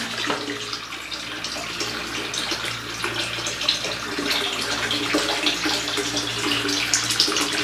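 Tap water pouring steadily into a container in a hot Saudi home, a continuous close rushing splash that holds level and grows slightly fuller toward the end, with no talk over it.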